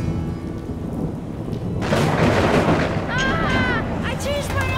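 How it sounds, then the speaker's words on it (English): Cartoon thunder rolls in as a loud, broad rumble and crash that swells after a quieter start, with rain-like noise underneath and bright squeaky whistling tones layered on top. "Did you hear that thunder?"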